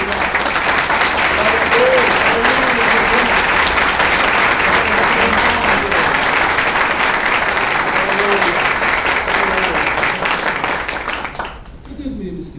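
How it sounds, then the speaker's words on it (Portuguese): Church congregation applauding during a Portuguese-language Lord's Supper service, loud dense clapping sustained for about eleven seconds before fading abruptly, with a voice talking over it near the end. "Você pode aplaudir ao Senhor?"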